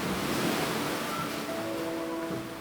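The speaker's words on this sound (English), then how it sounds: "he can even hear the sound of waves crashing" Sea waves wash and roar steadily near a house on an eroding coastline, a constant broad surf rumble with faint tonal hums underneath and no talking.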